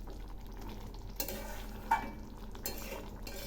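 Raw pumpkin curry being stirred in a pan, a soft steady scraping and shuffling with faint sizzle and a few light utensil clinks, close and quiet with no talk.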